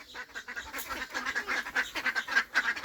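Ducks and ducklings quack repeatedly in a rapid, uneven series of nasal calls, moderately close and fairly quiet, with a faint low background murmur.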